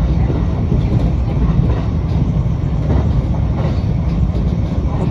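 An ordinary local train runs on the Hokuriku Main Line alongside the Hokuriku Expressway, heard from inside as a steady rumble with rhythmic wheel clatter throughout.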